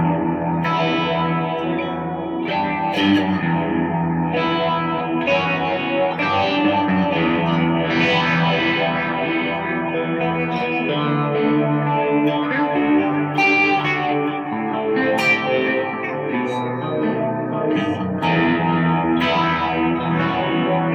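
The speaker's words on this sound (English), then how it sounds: "I thought the phaser was kind of cool" Electric guitar run through a phaser pedal, chords and melody with a sweeping, swirling tone, full and continuous at close range with no voices.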